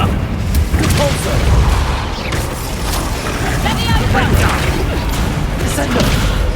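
Depulso force spell cast in Hogwarts Legacy, a video game played on Xbox Series X: thumping magical blasts and whooshes over constant combat clatter, with a voice shouting over the action.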